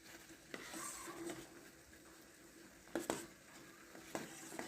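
Melting shea butter for soap being stirred lightly in a pot with a spoon: soft scraping and faint sizzling patter, with a few sharper scrapes and clinks near the end, fairly quiet and alone.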